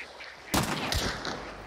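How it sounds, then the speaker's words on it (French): Ducks quack in the video game Hunt: Showdown, an abrupt burst of loud, harsh calls that starts suddenly and is followed by a few fainter calls. "Oh, les coin-coin."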